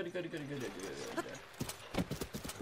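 A horse named Pickle clip-clops along in Zelda: Breath of the Wild, its hoofbeats steady and rhythmic under a player's continuous chatter.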